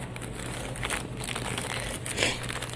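Close, steady crinkling of a plastic bag holding a homemade fire bellows made from a piece of antenna, rustling continuously for a few seconds.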